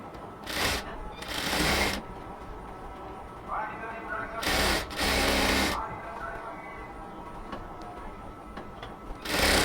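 A sewing machine runs dense stitches along a ladies' pant, whirring in two short bursts, then a pause, then two more, loud and close over a quiet room.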